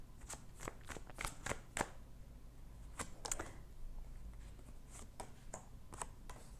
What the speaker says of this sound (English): I am going to pull 3 cards about our past.